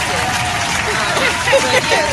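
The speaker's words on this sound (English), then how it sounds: "Oh, we got applause." An audience claps and cheers in a short burst of applause at a mental health gathering, with crowd noise and a voice speaking over it.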